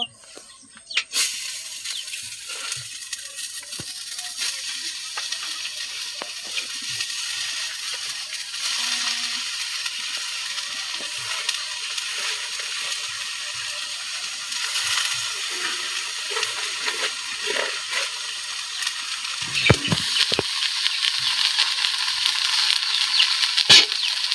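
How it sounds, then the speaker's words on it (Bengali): Foraged jungle greens sizzle and crackle steadily in a hot pan, a continuous bright frying hiss with scattered pops and a few clinks of utensils, no talking. "তখন আগে শাকটা বাজি করব"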